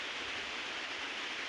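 Heavy floodwater of the swollen Bhima river rushing past, a continuous broadband roar with no breaks, steady and fairly close.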